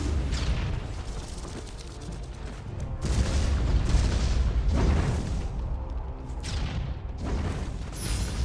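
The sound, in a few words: cannons firing cannonballs in a video game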